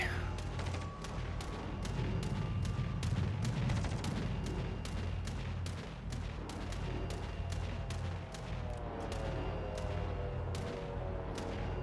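Naval combat in World of Warships Legends: a dense, rapid barrage of booming explosions and gunfire rolls on continuously, loud and heavy throughout, as torpedoes strike ships.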